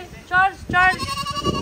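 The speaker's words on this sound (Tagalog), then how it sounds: "nakita niyo yung tunog ng kambing." Two loud, wavering bleats from a nearby goat, with a person speaking briefly over the end.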